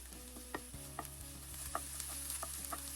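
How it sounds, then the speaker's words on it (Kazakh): Chopped onions fry in oil in a pan, with a steady sizzle under repeated clinks and scrapes of a utensil stirring against the pan at a loose, regular rhythm. "Пиязымызды жақсылап араластырып, қызарғанша қуырып шығамыз."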